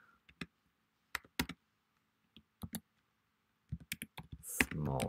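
Keys clack on a computer keyboard during data entry in Windows, with short clustered bursts of typing separated by pauses and a denser flurry of clicks at the end. The keystrokes are close and crisp, and no one speaks.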